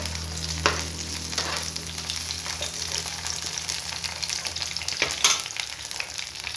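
Onions sizzle and fry steadily in a pan for mint chutney, a close, continuous crackle with a few stirring scrapes and no voices.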